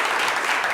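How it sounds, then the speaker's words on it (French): A short, steady burst of audience applause from a crowd at a live talk event, loud and close. "qu'on va applaudir et raccompagner chaleureusement"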